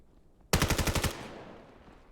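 Gunfire in the shooter game Vail: a sharp rapid burst of about six or seven automatic shots, loud and close, ending in a reverberant decay with no talking.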